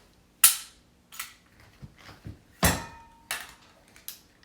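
A double-action pistol is dry-fired, giving a sequence of sharp, close mechanical clicks from the trigger and hammer, spaced unevenly with short quiet gaps between them.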